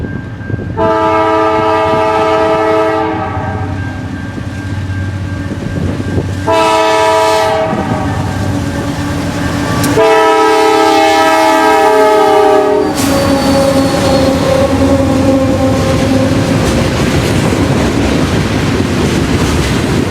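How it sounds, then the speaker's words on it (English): An eastbound CPKC manifest freight train roars past close by on the East Side of Chicagoland, sounding its horn in three loud sustained blasts while the rumble of rail cars runs continuously underneath. "an eastbound CPKC manifest storms east past our location"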